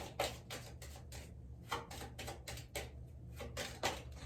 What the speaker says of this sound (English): as I was shuffling these cards